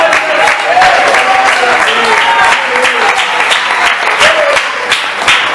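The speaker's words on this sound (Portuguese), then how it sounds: "Pode aplaudir e glorificar o Senhor Jesus" A Deus é Amor church congregation at a youth gathering applauds in praise, a dense, steady wash of clapping from many hands that fills the room without pause, with voices mixed into it.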